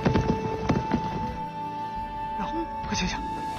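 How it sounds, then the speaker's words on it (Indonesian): Horse hooves clip-clop as riders approach in a martial-arts film scene, with uneven hoofbeats and a brief whinny under a narrating voice. "Seketika ia mendengar suara langkah kuda mendekat ke arah mereka."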